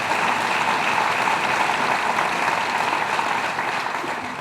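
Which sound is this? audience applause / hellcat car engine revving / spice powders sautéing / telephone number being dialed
audience applause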